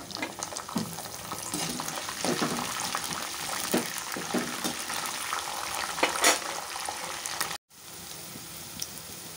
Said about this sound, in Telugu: 6 పచ్చిమిరపకాయలు పొడవుగా కట్ చేసుకున్నా వేస్తున్నాం.